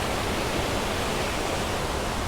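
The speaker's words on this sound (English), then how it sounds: "That is a really wild waterfall, and because of the rain we've had" A wild waterfall on Anglesey, swollen by recent rain, roars as a steady, loud, broadband rush of falling water that stays constant and close throughout, with no voices.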